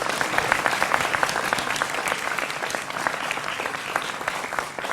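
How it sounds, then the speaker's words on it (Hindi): A studio audience claps loudly for a guest on a Hindi political talk show, a dense, steady burst of applause lasting throughout with no talk. "जोरदार तालियां अनवर पाशा के लिए भी"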